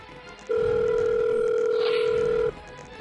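A telephone call to police being placed gives a steady electronic tone, one loud sustained beep of about two seconds that starts and stops abruptly, with faint background sound around it.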